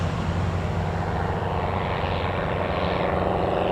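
An aircraft taking off at Newcastle Airport gives a steady, loud engine roar that fills the whole clip without a break, with a broad rushing wash over a low rumble and no voices.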